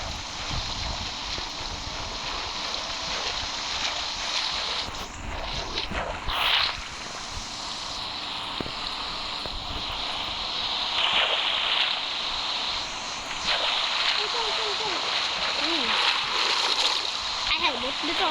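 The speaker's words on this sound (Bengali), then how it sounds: "তুমি নৌকা চালাও" A small rowed boat on the water, with paddle strokes splashing and dripping in an uneven rhythm, close by over constant flowing water, while people talk throughout.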